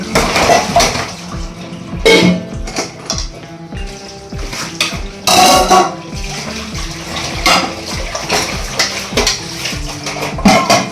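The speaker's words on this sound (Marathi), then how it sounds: "तर मी आता भांडी घासून घेते" Dishes being washed by hand: plates and pots clink and clatter at irregular intervals close by, with running water splashing underneath.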